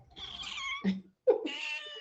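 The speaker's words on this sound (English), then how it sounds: "well, this is my cat." A pet cat meows twice, close and clear, with a brief pause between the two calls and no talking.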